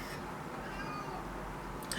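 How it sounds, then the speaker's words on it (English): A pet cat meows faintly indoors, a few thin drawn-out cries rising out of a steady hiss of background noise. "Oh, she's meowing. She's meowing."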